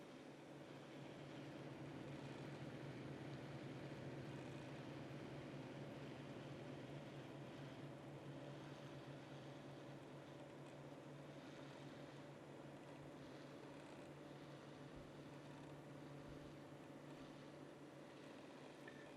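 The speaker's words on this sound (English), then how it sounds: "since we only got even 4 fans, it is, in my opinion, pretty loud at 1200 RPM" Four ALSEYE X12 RGB PC case fans spinning at 1200 RPM give a steady, fairly loud whooshing hum with constant low tonal drone, unchanging throughout with no speech.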